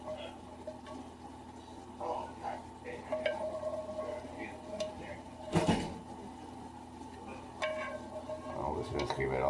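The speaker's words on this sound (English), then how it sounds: "Just gonna scrape out all these onions." Fried onions being scraped out of a greasy pan with a utensil, a series of close scratchy scrapes and light metallic clinks at irregular intervals over a faint background hum, with a short sharp scrape near the middle.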